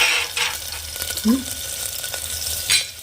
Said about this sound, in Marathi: थोडा कांदा टाकला कांदा वाटणात आहेच ना तर हा नुसता आपला फोडणीला घातला